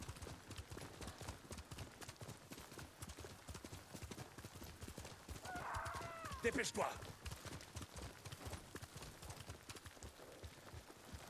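Rhythmic hoofbeats of a galloping horse in the video game Ghost of Tsushima run steadily throughout, with a voice speaking over them and a brief louder burst in the middle.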